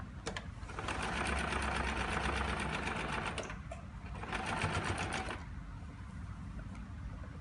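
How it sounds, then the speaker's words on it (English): A sewing machine stitches cloth in two fast, rattling bursts separated by a short pause, close and clear with a low background hum and no talking. "Now I'm putting here a normal stitch here"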